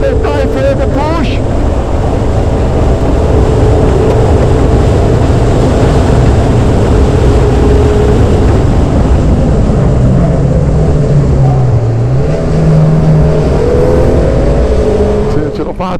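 A Dallara Stradale sports car laps a race track at full throttle, its engine note loud and continuous, shifting pitch through gears and corners, with another car running close ahead.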